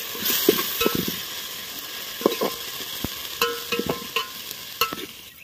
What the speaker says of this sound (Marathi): आता हे सर्व मसाले व्यवस्थित त्याच्यामध्ये मिक्स करून घ्यायचे आहेत